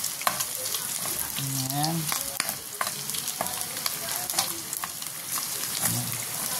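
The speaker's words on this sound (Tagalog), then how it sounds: "habang pinapa-brown niya ang bawang" Garlic sautés and browns in a pan with a close, steady sizzle and crackle, and brief voiced sounds come in above the frying at a couple of points.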